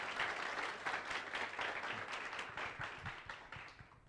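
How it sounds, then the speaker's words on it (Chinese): A church congregation at a Sunday special service breaks into applause, a soft, fairly distant patter of many hands that swells briefly and then gradually thins out. "我们给神一个荣耀的掌声好不好"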